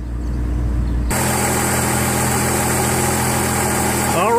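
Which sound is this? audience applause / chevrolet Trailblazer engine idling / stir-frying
chevrolet Trailblazer engine idling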